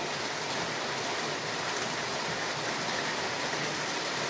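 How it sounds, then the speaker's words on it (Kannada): Heavy rain pours steadily over a forest camp in the Brahmagiri wildlife area, a dense continuous hiss that holds at the same level throughout with no voices. "ಮಳೆ ಈ ಥರ ಬೀಳ್ತೈತೆ"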